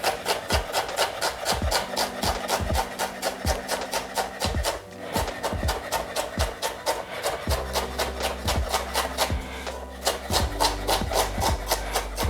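A knife slices ginger into very thin strips on a cutting board, making rapid, evenly spaced chopping taps in a steady rhythm, close and fairly quiet.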